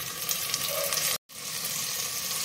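Garlic-ginger paste sizzling in hot oil in a pressure cooker, the oil already cooked with onions; a dense, fairly quiet hiss and crackle continues steadily, broken only by a very brief gap.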